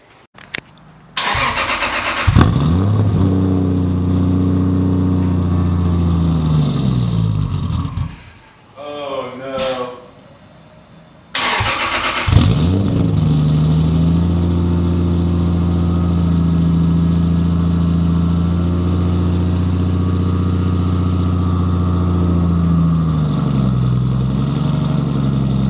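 A 700HP 1998 Toyota Supra engine idles loudly and steadily up close, drops out briefly midway with a rising whine as it restarts, then settles back into a deep, rough, sustained idle with small rev swells.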